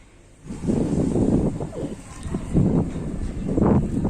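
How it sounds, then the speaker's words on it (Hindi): Outdoor wind gusting against the microphone in Raipur, India, rising and falling in loud buffeting surges, with a voice talking. "बहुत ज़्यादा अच्छी यहाँ पर हवा चल रही है अभी।"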